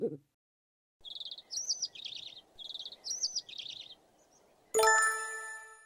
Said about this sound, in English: he heard some cheerful chirping